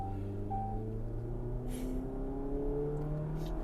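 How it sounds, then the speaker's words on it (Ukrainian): Jeep Cherokee 2.4 Limited accelerating at full throttle from low revs in a parking lot, a steady, close engine drone whose pitch slowly climbs throughout, with no talking. "я зараз нажимаю газ в пол"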